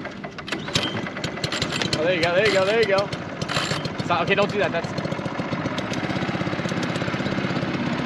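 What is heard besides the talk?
outboard boat motor starting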